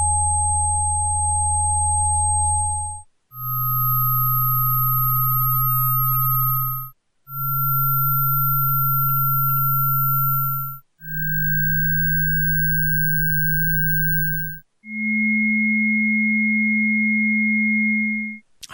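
Five electronic tones play in sequence from a recording, each a steady pure hum lasting about three seconds, stepping slightly higher in pitch each time and separated by brief gaps.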